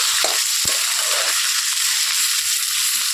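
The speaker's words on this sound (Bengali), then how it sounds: "এই যে মাংসগুলো এর মধ্যে দিয়ে দিচ্ছি, দিয়ে মাংসটাকে ভালো করে নেড়ে ছেড়ে লাল লাল করে ভেজে নেবো" Meat frying in hot oil with onions, stirred in the pan: a loud, dense, steady sizzle close by, with a couple of brief knocks from the stirring.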